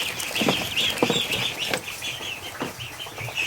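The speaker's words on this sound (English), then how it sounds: "Muscovy ducklings are so cute" Tiny Muscovy ducklings, hatched early and now eating and drinking, peep in a steady high chorus of overlapping short calls, close by with no talking.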